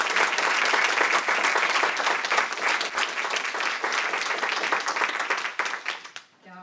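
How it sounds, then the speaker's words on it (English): Steady applause from an audience at a school board candidate forum, dense clapping sustained for several seconds before tapering off at the end, with faint voices underneath. "Yes, you can clap for all of them."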